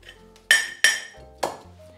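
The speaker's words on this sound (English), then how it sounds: "Mix them all together with a spoon and the breadcrumbs are ready" A spoon clinks against a bowl three times while breadcrumbs, pepper and Parmesan are stirred together, each strike a sharp, close ring that fades quickly, with no talking.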